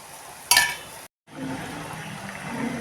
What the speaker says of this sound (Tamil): தேங்காய் பால் கொதிக்குது.